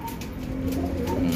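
Pigeons coo softly in low, throaty murmurs, close by against a steady background hum.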